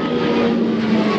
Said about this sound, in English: Check out that plane.